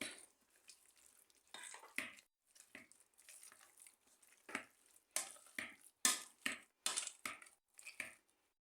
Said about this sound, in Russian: Хорошо мнем при помощи толкушки.